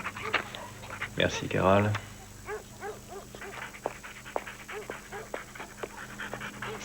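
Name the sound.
dog panting and barking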